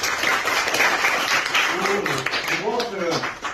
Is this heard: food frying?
no